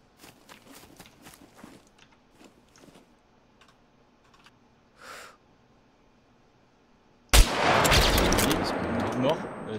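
Gunfire in the video game SCUM: scattered faint clicks early on, then a loud sustained burst of shots and explosive blasts fills the last two seconds.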